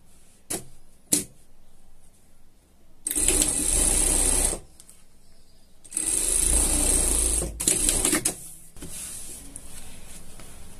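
Short bursts of a sewing machine stitching a denim jacket for a pet, two longer runs separated by quiet gaps and a few brief clicks.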